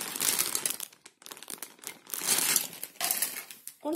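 Plastic bag holding Playmobil window parts for a daycare building set crinkles and rustles up close in bursts of handling, with short pauses between.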